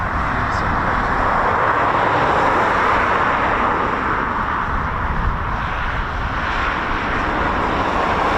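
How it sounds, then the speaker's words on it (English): Eurofighter Typhoon FGR4 jet engine running on the ground at RAF Coningsby, a loud, steady, unbroken roar holding constant throughout with no voices. "so that'll be an engine run"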